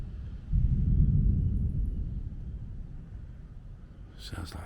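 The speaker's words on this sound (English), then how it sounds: "Sounds like thunder." Distant thunder swells into a deep, low rumble, then slowly fades away over several seconds with no talking.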